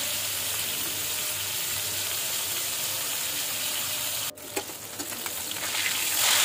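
Fish coated in turmeric, chilli and salt fries steadily in a pan with a constant hissing sizzle; a sudden crackle midway briefly intensifies the spattering, then it settles back.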